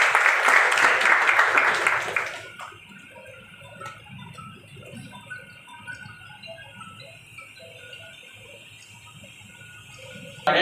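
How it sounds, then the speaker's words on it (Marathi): At an award ceremony in a training hall, dense applause rings out for about two seconds and then gives way to quieter room sounds with scattered clinks, before a brief burst returns at the end. "टाळ्या जरा भरगच्च आपण वाजवाव्यात"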